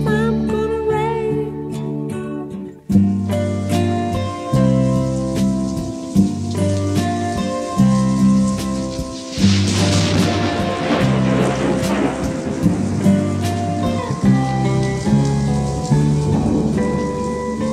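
Rain sound effect woven into a song: a steady hiss of rainfall that runs under the full band arrangement and vocals, swelling briefly midway as if with distant thunder.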